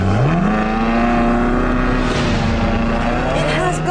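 A Ferrari California in its sportiest driving mode accelerates hard, its engine note climbing steadily and loud close by, with a constant roar of wind and road noise underneath.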